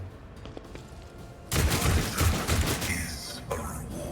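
Gunfire from a Warhammer 40,000 Rogue Trader turn-based battle: after a quiet stretch, a sudden loud burst of shots and impacts erupts and rolls on for a couple of seconds, followed by a second, lighter volley.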